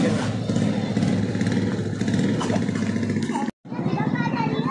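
A motorcycle engine runs steadily and fairly loud under children's chatter, cuts out briefly near the end, then resumes.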